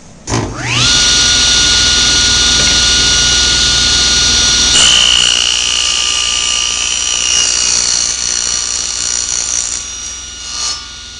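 A table saw with its blade raised to full height cuts a mitered sticking profile on a wood workpiece, a loud steady high-pitched whine that holds for about ten seconds before winding down.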